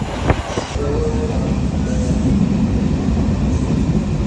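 A steady low rumble fills the interior of a moving train near Galle, Sri Lanka, with a few faint squeals and knocks over the continuous rolling noise.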